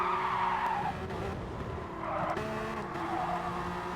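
A race car in a street car challenge round oversteers into a turn, its tires skidding and squealing in long wavering streaks over a loud engine roar.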